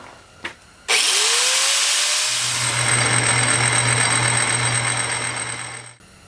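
A power cutting tool slices through metal bolts on a vintage dragster build. It makes one loud, steady, high whine that runs about five seconds after a brief knock, then cuts off, with no talking.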